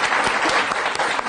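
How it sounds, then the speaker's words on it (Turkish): Dense applause from a lecture audience, loud and continuous for a brief moment, with sharp individual claps standing out. "Peki, alkışlar."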